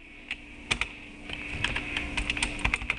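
Keys on a computer keyboard tapped in short irregular bursts while a number is typed, close and clicky over a faint steady hum.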